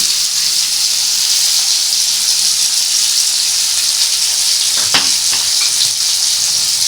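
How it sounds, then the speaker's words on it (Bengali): Potatoes fry in a pan for aloo posto, an even, close hissing sizzle with a brief stir or clatter near the end. "এই আলু যখন ভাজছি এই আলুটা ভাজতে ভাজতেই আমি এর মধ্যে দিয়ে দেবো নুন"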